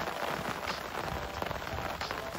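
Summer rain patters steadily onto a reservoir, a dense, even hiss of drops with scattered louder splashes close by, continuous throughout with no voices.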